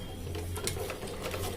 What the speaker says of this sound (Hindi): दोनों साइडों में हम यहाँ पर सिलाई चलाएंगे, यहाँ पर लब की सिलाई चलाएंगे